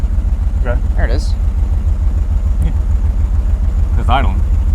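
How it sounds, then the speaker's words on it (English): The engine of a 1983 GMC Squarebody pickup, long stuck in a tree, idles with a steady low rhythmic thrum while a few people talk briefly over it. "It's idling."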